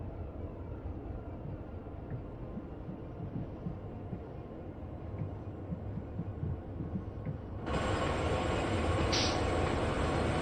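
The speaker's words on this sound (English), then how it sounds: "I'm trying not to get the train to a complete stop." A heavy coal train in Train Sim World 2 rumbles steadily through Cheyenne Yard with low clattering and hum, then a louder, brighter hiss joins in partway through, continuous and close.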